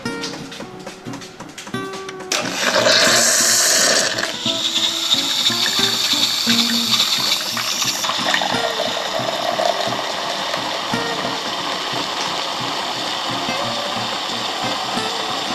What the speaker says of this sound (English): Let's try making a latte macchiato.